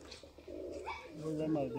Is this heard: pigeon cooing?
yes